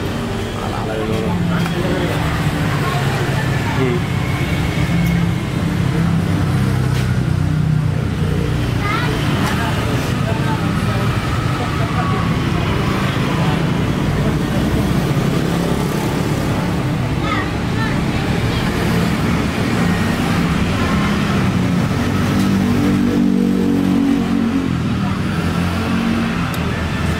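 A Yamaha Vixion motorcycle engine idles unsteadily, its speed rising and falling, a continuous close rumble running throughout with voices talking over it.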